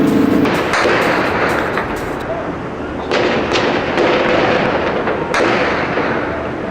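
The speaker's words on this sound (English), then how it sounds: "Shooting." Gunfire over a darkened city at night near the Tigris, heard as a dense rumble of distant shots and sharp cracks, with several bursts of pops rising above a continuous loud background.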